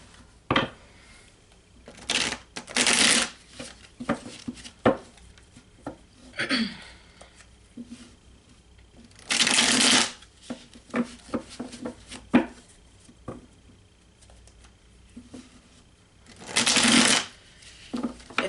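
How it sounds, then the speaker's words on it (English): A deck of reading cards being shuffled by hand, several loud riffling bursts separated by quieter taps and handling noises, close up. "I want to give this a good shuffle"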